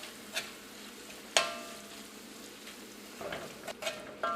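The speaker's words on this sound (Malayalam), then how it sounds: "ഇതെല്ലാം കൂടിയിട്ട് നന്നായിട്ടൊന്ന് മിക്സ് ചെയ്യാം" Tomato and coconut chutney is stirred in a pan taken off the heat, giving soft, irregular scraping with one sharp clink partway through and a few lighter taps toward the end, with no voices.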